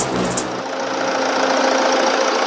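A 2015 Toyota Etios GD diesel engine idles under an open bonnet, a steady rough clatter with knocking texture, loud and close, with no voices.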